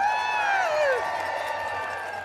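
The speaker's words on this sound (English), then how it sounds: "One final round of applause for Chairman Jerry Nadler." Rally crowd applauding for Chairman Jerry Nadler, a steady wash of clapping and cheering from many people outdoors, with a voice sliding in pitch over the applause near the start.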